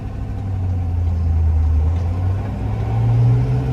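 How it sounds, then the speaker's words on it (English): A 1967 Shelby GT350 with a 289 HiPo V8 and four-speed rumbles steadily while driving down the road, a deep, continuous engine drone that swells slightly as it pulls, heard from inside with no talk. "So let's take this one down the road, run it through the gears, and show you guys how well this one runs."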